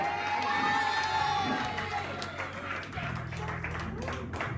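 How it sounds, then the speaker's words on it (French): Crowd at a Réunion wedding party cheering and clapping for the wedding witness, a loud dense burst of applause and shouts that eases slightly, with festive voices and some background music underneath. "Les applaudissements pour le témoin, s'il vous plaît"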